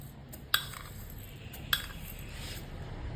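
A few faint metallic clinks of a spoon against a container as salt and sugar are added to an apple, cherry and date pickle, three or so light taps over a quiet background hum.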